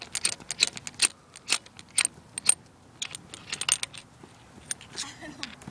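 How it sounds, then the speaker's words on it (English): Crosman 12 gram CO2 cartridges handled up close, a rapid irregular series of sharp metallic clinks and rattles, some bursts louder than others, with brief quieter gaps between. "Are these Crossman 12 gram CO2 cartridges"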